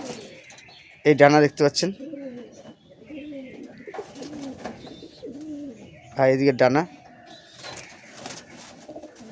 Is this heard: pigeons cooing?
yes